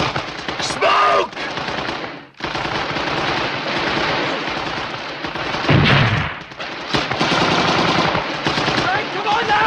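Loud, sustained machine-gun bursts rattle through a battle scene in the 1977 war drama A Bridge Too Far, broken by a short lull. Shouting voices are mixed in with the fire.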